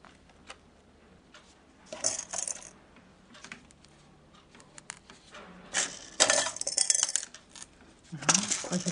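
Small metal pieces are dropped into an orgonite resin mix, making bright jingling clatters and tinkling impacts in several close bursts separated by quieter pauses, with no talking.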